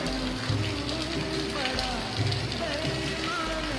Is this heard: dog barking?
no